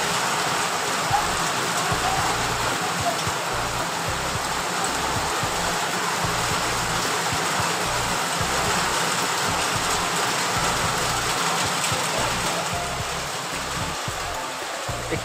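Heavy rain pours steadily outside, a dense, even hiss of drops drumming on surfaces that stays loud and unbroken throughout with no voices.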